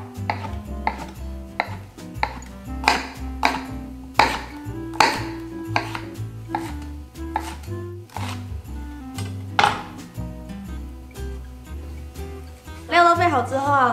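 A knife slices fresh shiitake mushrooms and old ginger on a cutting board, a series of sharp, irregular chops ringing out loud and close while a person talks over them.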